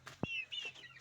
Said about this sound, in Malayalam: അപ്പോൾ ഇതാണ് കോഴികൾ കേട്ടോ.